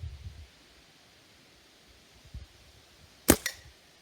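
A Stoeger A30 air rifle firing a Gamo Match 7.56 grain pellet outdoors from 50 feet: one sharp, crisp crack stands alone against faint wind, followed by a short softer echo or impact.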